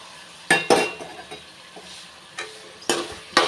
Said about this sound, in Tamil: அந்த தக்காளி கூடையும் சவுச்சக்காயும் நல்லா வதக்கி விட்டுக்கலாங்க